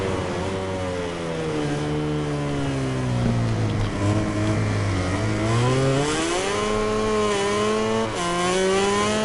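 Racing motorcycle engine in the MotoGP 19 game, a steady loud high-revving whine that dips and climbs in pitch as the bike brakes and accelerates through a corner, no talk.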